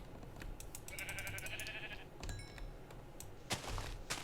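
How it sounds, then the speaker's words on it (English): Sheep in the Minecraft video game give a clear, high, wavering bleat lasting about a second, with quick clicky game sounds and thuds around it, all fairly quiet and with no voices. "So I'm killing these sheep."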